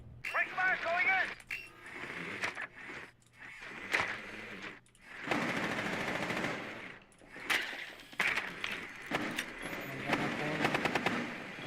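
Gunfire in Rainbow Six Siege, with repeated automatic bursts and single shots over several seconds, mixed under excited voices talking throughout.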